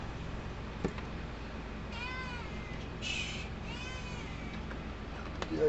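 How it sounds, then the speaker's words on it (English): Cat meowing indoors near a workbench, several drawn-out meows spaced a second or so apart, fairly faint over a steady low background hum. "yeah, I hear you, cat."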